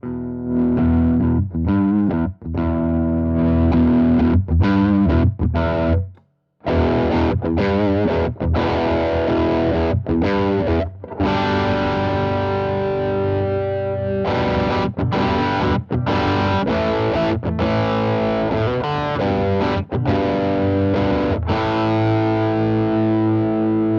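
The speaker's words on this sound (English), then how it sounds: "if you get your Klon clone, your Dumble clone, good clean amp, it's a great sound" An electric guitar played through Klon clone and Dumble clone overdrive pedals into a clean amp rings out in warm, driven chords and sustained notes, with one brief pause near the start, played alone.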